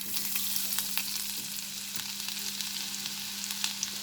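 Chopped ginger and garlic frying in about two tablespoons of oil, giving a steady, moderately loud crackling sizzle with light ticking pops throughout, alone without talk.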